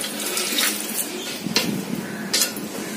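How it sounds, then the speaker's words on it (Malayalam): A glass of water is poured into a pan of snake gourd kootu curry, a steady splashing pour with a few sharp metallic knocks of vessels, no voices. "ഇതിലേക്ക് നമുക്ക് ഇത് വേർന്ന് കിട്ടാൻ വേണ്ടിയിട്ട് 1 ഗ്ലാസ് വെള്ളം ഒഴിച്ചു കൊടുക്കാം"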